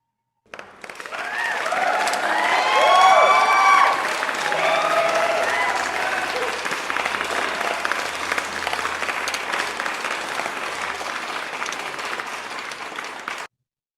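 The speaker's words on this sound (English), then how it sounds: "Please let us give a final round of applause for these outstanding delegations and for all the delegations" Sustained applause from a large audience at a closing ceremony for conference delegations, steady dense clapping that swells early then holds evenly for over ten seconds before cutting off.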